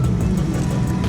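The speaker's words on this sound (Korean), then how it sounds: "GT3 RS에 주행을 해보도록 할게요" Porsche 911 GT3 RS with a naturally aspirated engine driving at low speed, a steady low engine drone and road rumble filling the cabin continuously for the whole moment.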